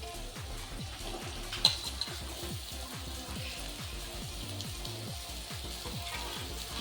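Chopped katurle, a wild spiny gourd from Khandesh, frying in roasted masala, making a steady close sizzle with repeated scraping and clinking of a stirring spoon against the pan.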